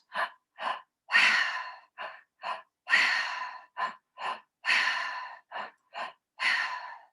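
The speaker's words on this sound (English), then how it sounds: "So 2 breaths in, and then a quick, short, sharp exhale out." Breathwork pattern in a cacao breathwork session: repeated close, loud breathing cycles of two short sniffing inhales followed by a longer, sharp exhale, rhythmic and heard alone.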